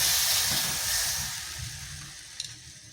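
Batter for patishapta pitha ladled onto a hot oiled pan over a low flame, a steady close hiss of sizzling that slowly fades, with a faint clink near the end.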